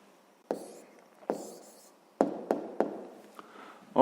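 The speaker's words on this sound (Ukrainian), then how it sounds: "а зараз записуємо відповідь" Handwriting during a sixth-grade maths exercise: several sharp pen taps and short scratching strokes on paper, close and fairly quiet, spaced irregularly with brief pauses, no voices.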